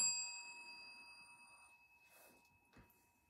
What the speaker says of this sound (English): hit this bell like this